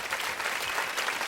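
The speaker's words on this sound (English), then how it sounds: "Don't clap too loud, you might frighten him." An audience bursts into steady, dense applause, many hands clapping together loudly and evenly throughout the brief moment, with no one speaking over it.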